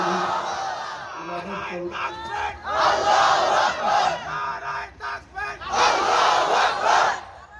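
A large outdoor crowd at a Bangladeshi mosque-organised religious gathering roars back in unison in answer to a Nara-e-Takbir call, loud bursts of massed shouting rising and falling over several seconds.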